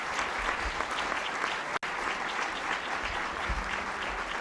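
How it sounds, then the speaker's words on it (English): Steady applause from a luncheon audience at the National Press Club in honor of the speaker, a full room of hands clapping continuously, with one brief dropout near the middle. "How about a round of applause for our speaker today?"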